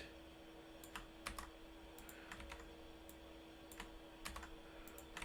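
Computer keyboard keys are pressed in quick, light clusters of taps, close and quiet, for cut and paste shortcuts while working in Word, with short pauses between bursts over a soft steady hum.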